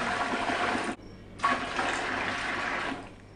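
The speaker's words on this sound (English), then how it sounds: "put in the amount of water that you need for your canner" Water pours steadily into a Presto pressure canner in two bursts with a brief gap between them, a close, full-bodied splashing and trickling stream.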